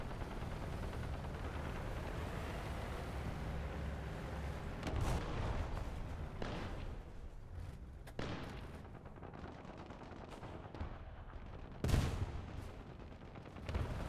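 War Thunder gunfire during an April Fools mobile infantry battle: scattered sharp shots and heavier cannon-like booms over a constant rumbling backdrop, mostly distant and fairly quiet, with one stronger blast near the end.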